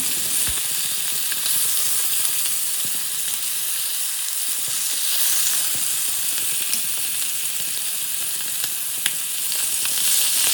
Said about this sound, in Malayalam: ഒരു ഭാഗം നന്നായിട്ട് ഫ്രൈ ചെയ്തിട്ടുണ്ട്. അപ്പോൾ നമുക്കിതൊന്ന് മറിച്ചിട്ട് കൊടുക്കാം.